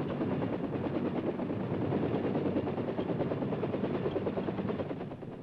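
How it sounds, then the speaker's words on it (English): A military helicopter on a Vietnam War flight line, being moved to the area where its rocket pods are armed, gives a loud, steady rotor and engine roar with a rapid thumping throughout, alone and without talk. "the chopper is moved to a different part of the field where the rocket pods are armed"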